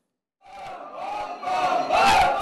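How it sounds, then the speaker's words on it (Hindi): A crowd of Shiva devotees at a temple chants in rising unison, the massed voices starting after a short silence and swelling louder in repeated loud waves. "सावन के पहले दिन शिव मंदिर हर हर महादेव और बम बम भोले के जयकारों से गूंज उठे।"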